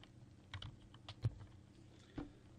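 Several sparse keystrokes on a computer keyboard as a username is entered, faint clicks spaced irregularly with quiet gaps between them.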